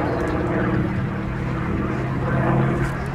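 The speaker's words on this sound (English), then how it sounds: "You will not see a warbird entering an air display doing a full vertical roll pretty much anywhere else" A Grumman F8F-2P Bearcat warbird flies in an air display at Sywell Airshow, its piston engine and propeller producing a loud, sustained droning roar that swells slightly toward the end.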